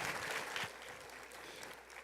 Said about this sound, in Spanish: Un aplauso a nuestras actrices.